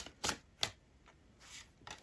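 Tarot cards being shuffled by hand, two sharp riffling bursts followed by softer ones, close and quiet with no talk.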